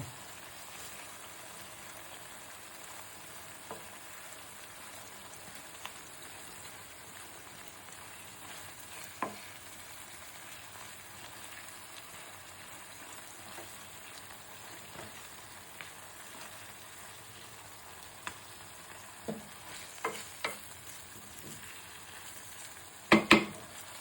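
Prawn malai curry with coconut paste bubbles softly in a pan, a faint low sizzle with occasional spoon clinks and scrapes as it is turned, growing louder in a few knocks near the end.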